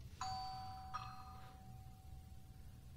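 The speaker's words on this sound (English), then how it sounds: "I play the sound of a doorbell" A two-note doorbell chime rings out clearly, the second tone lingering and fading over a quiet, low background hum.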